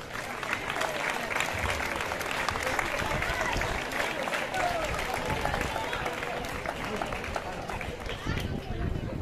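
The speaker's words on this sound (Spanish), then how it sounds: "repetimos ese fuerte aplauso para ellos" A crowd at the awards ceremony of a village road race in Monleras claps hard and steadily, a dense wash of applause that holds its level throughout with faint chatter underneath.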